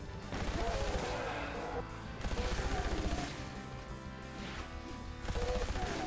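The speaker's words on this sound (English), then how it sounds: "It's basically my plasma gun." A rapid-fire plasma gun in the Doom WAD Back to Saturn X, delivered as sustained energy-weapon bursts with a quick pulsing rhythm that comes in roughly three stretches and sits loud in the game mix.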